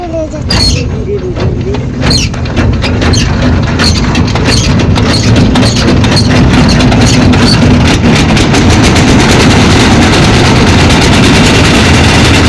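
A trawler boat's engine runs on a river as a loud, steady, close low drone with rattling throughout, and people talk over it in the first seconds.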